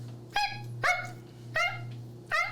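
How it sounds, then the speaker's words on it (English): A small Pomeranian dog barks four times in sharp, high yips, evenly spaced over a steady low hum, close and fairly loud with no talk. "What kind of dog is it? It's a Pomeranian."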